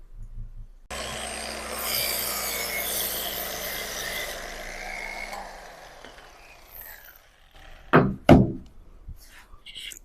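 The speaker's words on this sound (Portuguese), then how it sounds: "Deixa eu lixar mais, né?" Sandpaper rubs back and forth over a wooden display base for action figures, a close, steady scratchy rasp that fades out, followed by a couple of sharp knocks and handling sounds near the end.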